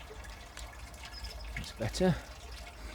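Rainwater running off a greenhouse roof into a collecting barrel on an allotment after a storm, a faint trickle with a few drips, with someone speaking briefly over it.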